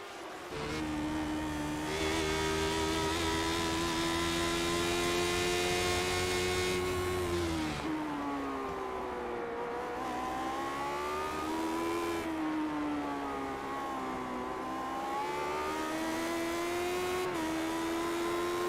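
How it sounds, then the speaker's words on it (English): Lotus 79 race cars roar continuously around the Sebring circuit in a racing game, engines bumping over pavement; a loud, steady howl drops sharply as they slow, then climbs and wavers again without any talk. "You can hear the cars as they're skipping across the pavement."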